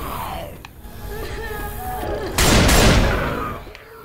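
Gunfire in Left 4 Dead 2 during a Hard Rain solo mutation run, a heavy blast cluster standing out loud in the middle amid ongoing game noise and rumble.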